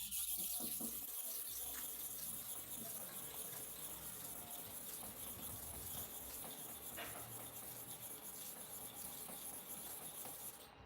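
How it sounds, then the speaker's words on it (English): A clipper blade is worked back and forth on a sharpening stone with even pressure, giving a continuous wet, gritty rubbing that stays steady and close for the whole stretch, with no voices. "We want to repeat the same sharpening for here 250 times, the same type of pressure."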